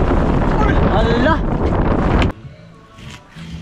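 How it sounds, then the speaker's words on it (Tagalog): Strong wind and waves at sea heard from a small fishing boat in rough conditions: a loud rushing roar that drops off sharply after two seconds, with a voice exclaiming over it. "Lakas ng hangin tsaka alon."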